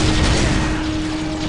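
Heavy gunfire in a Warhammer 40,000 Dawn of War battle, a dense, steady roar of shots and rumbling explosions that goes on without a break.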